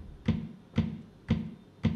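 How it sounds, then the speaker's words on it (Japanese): Four evenly spaced bass drum thumps from a DTM production lesson, each a soft, low, muffled hit with a short decay, played alone at moderate volume. "これがバスドラの音ですね。"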